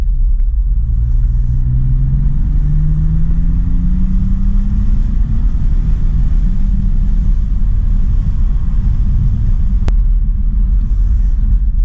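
A BMW F80 M3 with a competition exhaust drives along, its engine a loud, steady low rumble from inside the car with a brief rising pull early on.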